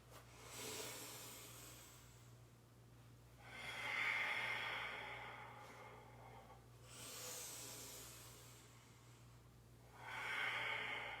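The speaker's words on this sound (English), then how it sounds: "Let's just do like 2-3 more big rounds of breath" Deep breathing during vinyasa yoga practice: quiet, slow breaths, roughly four of them spaced a few seconds apart, close and soft against a faint steady hum.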